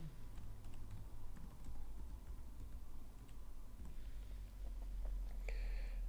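A name being typed on a computer keyboard, a quiet patter of scattered key clicks with short pauses, close but faint over low background hum.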